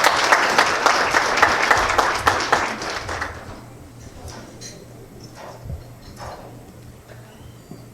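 Audience applause welcoming Jimmy Smalls, president of the Muslim League of Voters, onto the stage at the 2016 Red Dress Affair, dense clapping for about three seconds then thinning to scattered claps over a low steady hum.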